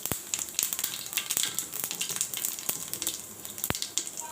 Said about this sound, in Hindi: तेल गर्म हो गया है, 1 चम्मच जीरा डाल दिया हमने